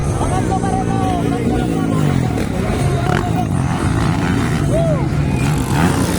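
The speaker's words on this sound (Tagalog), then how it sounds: "Ano na nangyari sa motor ni Teres Napat? Nag-ubo-ubo na." A racing motorcycle's engine coughs and sputters during a first-heat race, its uneven roar mixed with other bikes and crowd babble, under continuous excited commentary.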